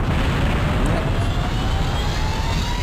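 A steady, loud, broadband rumble from a video game explosion fills the whole stretch without distinct peaks, with no voices over it.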